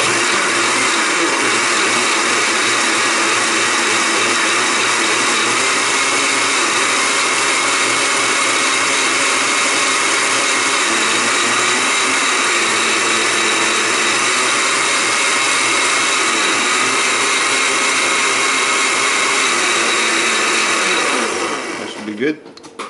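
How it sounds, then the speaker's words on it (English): A blender whirs steadily as deer brains and water are pureed for hide tanning, a loud continuous motor drone close by that runs nearly the whole time and cuts off abruptly at the very end. "So we'll just blend this up a bit."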